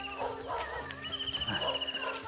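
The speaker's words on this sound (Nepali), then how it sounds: "यता चाहिँ हाम्रो बलि कुकुर पनि आउँदैछ कि" A village dog barking in short, rough bursts outdoors, mixed with a voice talking over it during preparations for a rural Satyanarayan puja.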